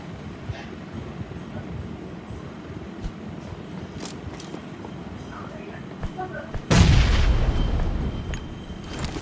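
Bomb blasts in a video game: low rumbling and scattered thuds under a player's talk, then one loud, booming explosion near the end that roars and slowly fades.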